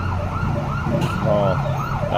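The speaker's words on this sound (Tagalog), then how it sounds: "mayroong bumbero ambulansya ang dumaan" An ambulance siren wails close by on a road, its rising and falling tone cycling steadily over vehicle engine rumble.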